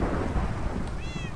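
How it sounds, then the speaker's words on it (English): Thunder rumbles low and heavy in a Minecraft storm, with rain hissing underneath and a cat meowing briefly near the end. "thunderstorm, cool"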